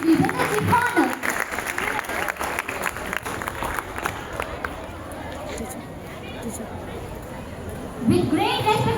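Audience applause at a science expo, dense clapping that thins out after a few seconds into crowd murmur and general hall noise, with a fresh swell of voices near the end.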